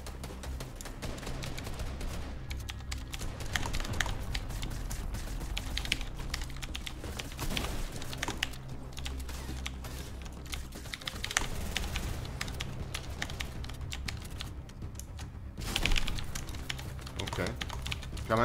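A typewriter used in place of a computer keyboard during an online shooter game, rapid clattering keystrokes running continuously and loudly throughout, with brief gunfire-like bursts mixed in.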